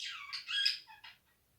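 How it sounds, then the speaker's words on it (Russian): A sparrow gives a short burst of bright, chattering chirps, several quick notes in a row, fairly close and clear against silence, then stops. "Верно, воробей."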